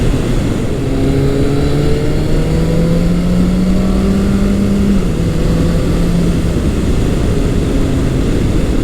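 Restored Yamaha FJ1200 motorcycle on its first road ride after being a non-runner, engine note climbing repeatedly as it shifts up through the gears, loud and continuous over heavy wind rush.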